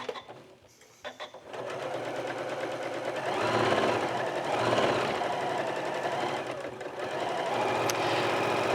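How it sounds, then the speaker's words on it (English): A sewing machine stitches quilt block seams, starting after a few soft handling clicks and then running in a steady close rapid mechanical whir that briefly pauses before resuming. "So as I'm sewing my seams,"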